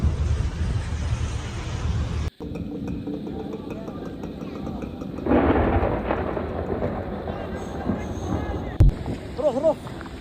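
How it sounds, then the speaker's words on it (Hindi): Deep rumbling thunder rolls beneath a wash of heavy rain during a storm in Mecca, Saudi Arabia, with a sharp crack and some distant voices later on. "जबरदस्त बारिश"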